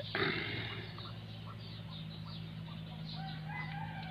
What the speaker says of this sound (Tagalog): yung mga manok gumala sila